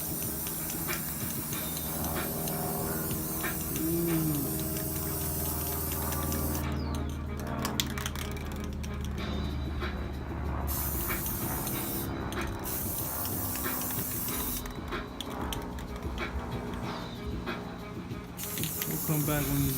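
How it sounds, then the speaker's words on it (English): A spray gun shoots clear coat over a freshly painted Nissan 240SX engine bay, a continuous airy hiss broken by short pauses between passes, close and steady. "paint coat's all dry, shooting that clear coat"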